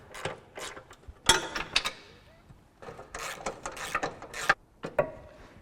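Bolts being tightened on a 1986 Range Rover gearbox in a workshop, heard as several bursts of ratcheting and metallic mechanical clicks with pauses between.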